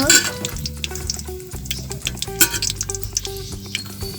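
Bay leaves, four cardamom pods and cinnamon pieces frying in soybean oil for an ash gourd murabba, a steady close sizzle with frequent clinks and scrapes from a spoon stirring the pan.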